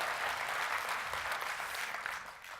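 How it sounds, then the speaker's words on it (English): An audience at a startup demo day applauds in a steady, dense burst of clapping that fades slightly toward the end. "please join me in a round of applause for Startup Bootcamp"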